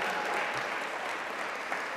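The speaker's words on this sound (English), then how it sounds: "If we could just give Sister Nanika another round of applause" Sustained audience applause at an April 2015 gathering, a dense steady wash of many hands clapping together, fairly loud and even throughout with no voices rising above it.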